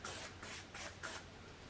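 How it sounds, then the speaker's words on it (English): An aerosol can of gun cleaning lubricant hisses in four short, evenly spaced bursts while spraying down rifle parts at a range cleaning session, faint and close with no talking. "Spray everything down real quick."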